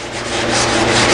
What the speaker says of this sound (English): So we're going to continue today with these plaques and just fine hand sanding.